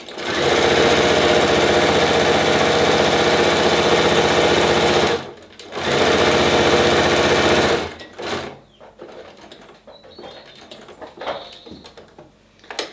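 A sewing machine runs loud and steady while stitching a homemade fabric face mask, stopping briefly once and then resuming before it cuts off. Quieter handling noises and fabric rustling follow at the end.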